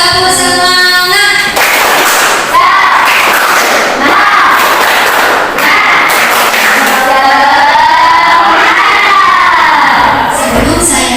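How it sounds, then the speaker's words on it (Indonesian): A group of students does a rhythmic spirit clap in a classroom, with loud, dense claps blended with shouting and cheering voices that fill the whole stretch. "Tepuk semangat."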